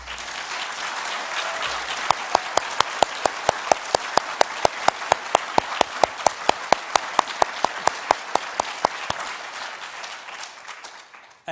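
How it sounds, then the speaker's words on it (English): An audience at the Digital Preservation Awards 2022 ceremony applauds in a steady, dense wash of clapping that fades out near the end, with a run of sharp, evenly spaced clicks cutting through. "So maybe we could make sure Mickey gets that round of applause"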